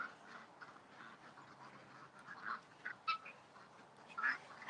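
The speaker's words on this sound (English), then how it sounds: "Oh, see the duck." A duck quacks a few times, faint and somewhat distant, over a quiet outdoor background.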